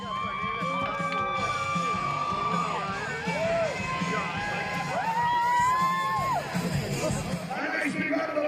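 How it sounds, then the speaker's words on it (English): A club crowd at a live show cheers, whoops and shouts continuously at close range, with excited high voices rising and falling over a steady roar of noise. "Put your hands up so we make some noise."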